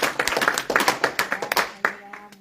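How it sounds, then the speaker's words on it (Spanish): A church congregation claps hands in a lively, rhythmic burst of roughly a dozen sharp, close claps over a couple of seconds, with voices speaking and calling out underneath before the clapping tapers off. "Denle un aplauso al Señor"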